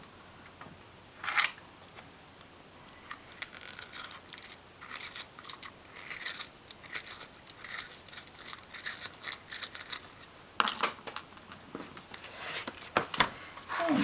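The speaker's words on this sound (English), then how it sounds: "I have my little pencil sharpener." A pencil is sharpened in a small handheld pencil sharpener, giving close, dry scraping and grinding in uneven bursts with short pauses, alone.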